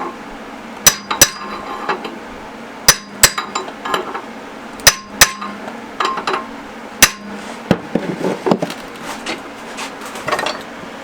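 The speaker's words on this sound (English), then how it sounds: "the last little bit I can just massage it with the hammer and the chisel" Hammer and chisel strike metal while shaping and fitting a DA9 turbo manifold for a K20 engine, giving sharp ringing taps in irregular clusters with short pauses, loud and close, with no talking.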